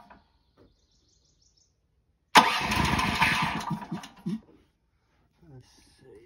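A new portable generator's engine cranks and catches, a loud, close burst of mechanical roar lasting about two seconds before cutting off, with faint birdsong and a few quiet words around it.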